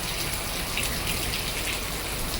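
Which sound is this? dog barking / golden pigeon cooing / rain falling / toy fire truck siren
rain falling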